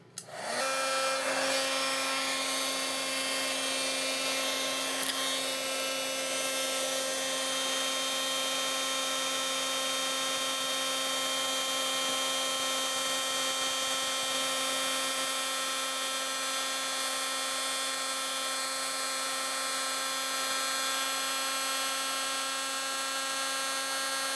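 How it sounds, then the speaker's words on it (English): A heat gun's constant electric whirring hum with a steady airy hiss starts right away and runs unchanged throughout, close and moderately loud, with no voices. "I'm going to go ahead and turn on my heat gun right now."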